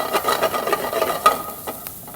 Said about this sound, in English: then we add a couple tablespoons of minced garlic